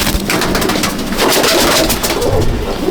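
Madrasi pigeons coo in a loud, close, continuous chorus of overlapping throaty calls, with fluttering and scuffling mixed in.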